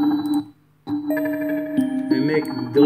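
A synthesized bell tone in FL Studio plays a sustained melodic line with a limiter on it, loud and clear, briefly dropping out before resuming with shifting pitches and brighter overtones.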